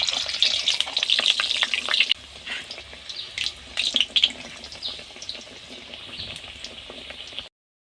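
Mughlai paratha stuffed with chicken and egg frying in hot oil on a stove, bright crackling sizzle loud at first, then easing into steadier bubbling with scattered pops and occasional utensil knocks.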